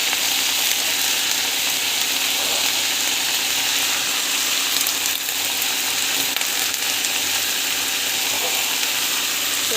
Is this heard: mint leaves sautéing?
yes